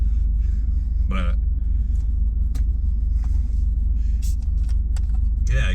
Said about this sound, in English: I'm just hanging out at the car wash